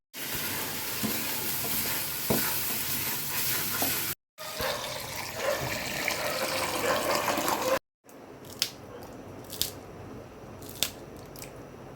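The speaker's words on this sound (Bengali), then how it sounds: "এই যে তিন চারটা আলু পকোড়া দিয়ে দিচ্ছি দিয়ে একটু নাড়া দিয়ে দিচ্ছি" Biryani with three or four potato pakoras being stirred in a pot at night, with scraping and sizzling in two steady stretches, then quieter sharp clinks and knocks of a utensil against the pot.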